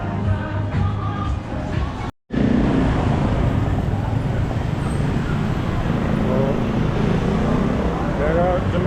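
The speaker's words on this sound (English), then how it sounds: "There are too many motorcycles." Busy night street in the city center of Legian, Bali, with dense traffic of many motorcycles and cars, a steady loud roar of engines close by, a brief dropout early on, and crowd chatter mixed in.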